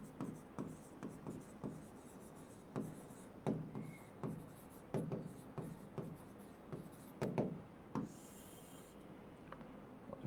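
Chalk or marker writing on a board during a maths lesson, with quiet irregular scratching strokes and taps coming in short bursts and pauses.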